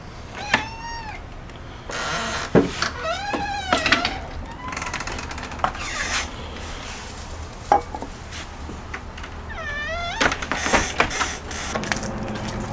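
Feral cats meow outdoors in a backyard at feeding time, several short rising meows in bursts at close range, mixed with footsteps, clatter of dishes and rustling, without speech.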